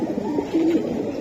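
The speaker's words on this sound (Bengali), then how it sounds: "এটা এক পেয়ার হ্যামার কবুতর ভাই" A platinum Hammer pigeon gives a short, low throaty coo close by, a single rolling call lasting about a second.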